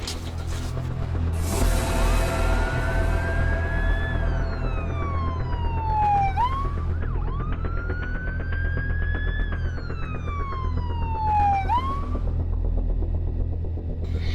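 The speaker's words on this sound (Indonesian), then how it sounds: "Ada ambulan." An ambulance siren wails, sweeping up and down in long rising and falling cycles, loud and close, over a steady low rumble of traffic.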